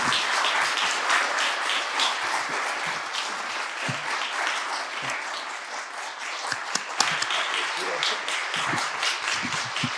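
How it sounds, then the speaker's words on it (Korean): A church congregation at a year-end dawn prayer service in Ulsan breaks into sustained applause. The dense clapping is loud and even, with scattered sharper claps and faint voices mixed in. "큰 박수로."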